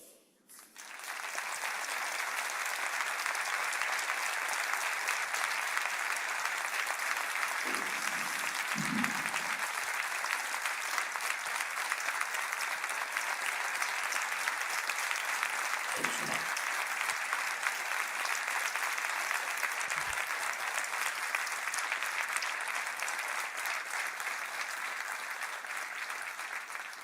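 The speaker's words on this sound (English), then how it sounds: "the applause will almost never end here from Sweden" Sustained applause from an audience in Sweden following an address by Ukrainian President Zelensky: dense, even clapping that holds steady for nearly half a minute, with a few low thumps under it.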